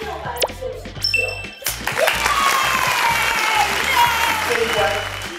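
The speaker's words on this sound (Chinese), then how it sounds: "掌声先给他鼓励一下" Studio audience applause at a women's training-class team competition show, a steady dense wash of many hands clapping with chimes and voices over it.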